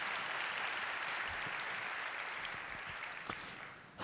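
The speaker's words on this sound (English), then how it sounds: "Let's give him another round of applause." Audience applause at the GitHub Universe 2016 opening keynote, a dense sustained wash of clapping from a large hall that tapers slightly toward the end, with no speech over it.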